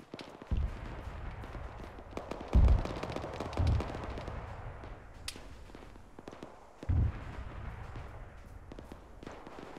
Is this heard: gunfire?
yes